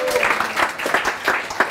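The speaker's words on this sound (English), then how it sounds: "Give him a round of applause for that." An audience at a sales training seminar gives a brief round of applause, a dense wash of clapping with a few distinct hits, lasting under two seconds with a voice mixed in.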